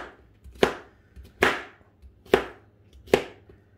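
Vegetables being sliced on a cutting board for a Latin American pot roast: four sharp knife chops, evenly spaced about a second apart, close and crisp against a quiet room.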